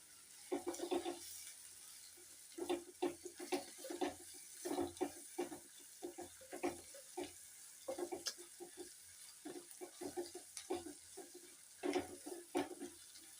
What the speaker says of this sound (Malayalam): ഒരു ചെറിയ ഒരു ക്യാപ്സിക്കം അത്ര വഴറ്റേണ്ട ആവശ്യമില്ല